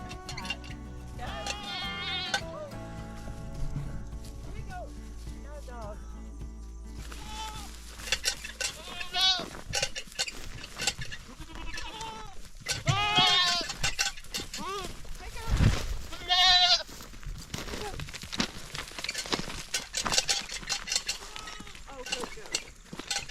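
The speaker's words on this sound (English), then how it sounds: "We are going to be chasing goats all over this mountain" Goats bleat repeatedly on a mountain paddock, several distinct calls scattered across the clip, near and fairly clear, with faint clinks and people talking intermittently between them.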